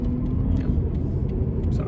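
A car engine revs and rumbles steadily up close as the vehicle accelerates, a continuous low drone filling the whole moment with faint voices mixed underneath.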